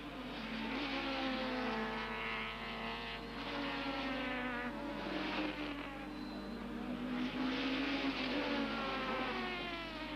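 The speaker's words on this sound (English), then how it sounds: "White is now coming under attack from Chris Aberdeen in the second Audi and Dion Joubert in the BMW Envirocar" Super Touring cars, including Audi, BMW and Nissan Sentra entries, race at Zwartkops circuit in the 1995 South African championship. Several engines overlap in a continuous, strong droning roar, with pitch slowly shifting as the cars accelerate and ease off.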